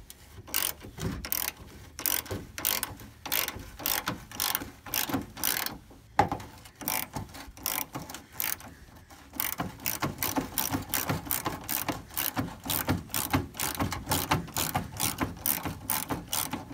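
Ratchet working a 13 mm metric bolt loose on a 1989 Ford F150, rapid rhythmic clicking in bursts with short pauses, close and fairly quiet.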